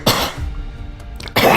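A man coughs twice in quick succession, close and loud, with a short quiet gap between the two harsh bursts.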